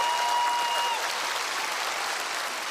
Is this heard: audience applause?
yes